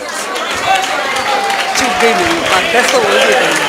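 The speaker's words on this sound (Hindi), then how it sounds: "जोरदार तालियां तो बजाइए" Audience applause at a Mahesh Navmi Utsav celebration, a broad steady wash of clapping filling the hall, with chatter and voices mixed in throughout.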